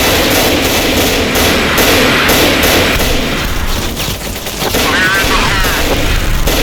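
Dense gunfire in a Roblox gang battle, loud and continuous, with rapid overlapping shots and bursts forming a steady barrage, while a voice shouts over it.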